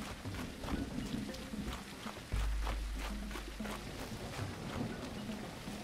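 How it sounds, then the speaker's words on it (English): Steady rain and wind in the survival game Tribe Primitive Builder, a constant hiss with a deep rumble of thunder rolling in partway through and continuing underneath. "Thirsty and it's raining."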